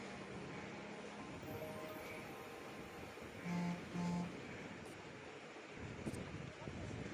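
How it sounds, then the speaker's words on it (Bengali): Steady wind blows outdoors at a scenic riverside spot near Kolkata in the late afternoon, a broad rushing noise held throughout with a few faint tones and murmurs in the background. "এত হাওয়া দিচ্ছে, খুব সুন্দর লাগছে এখানে"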